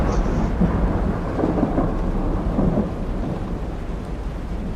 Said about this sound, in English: Thunderstorm for dramatic effect.